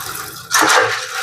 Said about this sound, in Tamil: இந்த கடலையை நல்லா 4 நட கழுவி எடுத்து வச்சுக்கிறோம்.